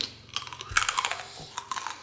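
Crisp crunching bites of a snack, a quick irregular series of close, crackly chews.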